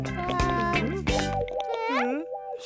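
Cartoon water is poured into dishwashing soap, with bubbly plopping and gurgling tones over light music and a voice talking.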